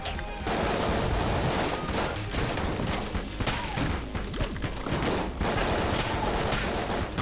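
Shotgun blasts in the video game Enter the Gungeon pile into a dense barrage of gunfire with mechanical clatter, continuous and loud throughout with no pauses.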